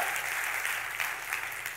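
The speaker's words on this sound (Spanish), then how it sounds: "si quieren aplaudir, apláudanlo bien, durísimo" Church congregation applauding steadily, a dense wash of clapping that stays even throughout.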